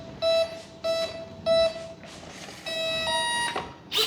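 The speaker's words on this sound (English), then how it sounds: "Why is it so beeping anyway?" Beeping electronics of an RC F/A-18 Hornet 64mm EDF jet during radio setup and initialization: a series of loud, close electronic tones, a few short spaced beeps followed by a longer rising tone sequence.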